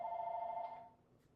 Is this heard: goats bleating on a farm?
no